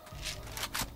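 A weapon reload in Left 4 Dead 2 gives a quick one-second run of soft mechanical clicks and a metallic slide, close and quiet.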